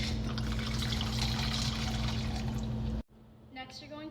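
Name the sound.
pouring pumpkin sorbetta liqueur into a cocktail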